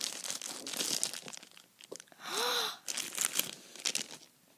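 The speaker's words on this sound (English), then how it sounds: "there's the black bag. So I'm gonna cut it open." A black bag from a mystery mini blind box is cut open, giving close crinkling and tearing plastic rustles in bursts, with a brief breathy exhale in the middle.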